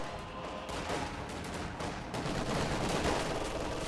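Dense MG42 machine gun bursts mixed with rifle shots in a World War II strategy game battle, a continuous distant-sounding rattle of gunfire with no pauses, filling the whole stretch at moderate level.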